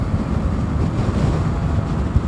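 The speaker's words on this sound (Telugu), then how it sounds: "ఫుల్ వర్షం పడుతుంది." Heavy rain and strong wind roar continuously over a motorcycle on a group ride, making a dense, loud rush with no talk.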